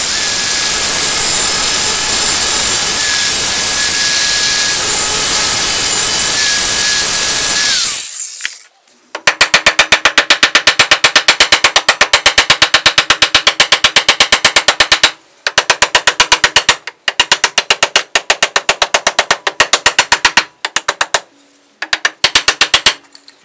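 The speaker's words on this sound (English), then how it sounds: "So now I'm going to go ahead and cut these threads off here a little bit" A loud continuous high whine from a cutting tool takes off excess bolt threads on a cant hook handle, then stops and gives way to rapid rattling mechanical bursts with short pauses between them.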